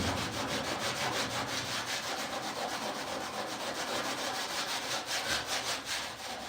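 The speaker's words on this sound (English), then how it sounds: "we have very, very nearly stripped this whole door of old blue paint, hand painted blue paint" Old hand-painted blue paint being scraped by hand off the door of a 1969 VW Westfalia in a single garage, a steady run of rapid back-and-forth rasping strokes, close and fairly quiet, with no talking.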